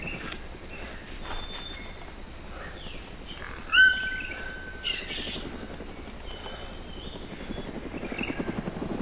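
A helicopter's rotor throbs steadily in the background of the game DayZ on the Lingor map, joined by a few brief electronic chirps and tones, like game sound effects.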